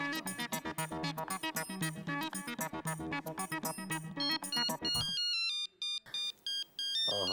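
Telephone ringing while a call is placed, a bright electronic ringtone melody of rapid repeated notes followed by sparser ringing tones with short gaps.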